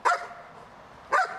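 Police patrol and intervention dog barking twice, about a second apart, each bark short, sharp and close, with quiet background between them.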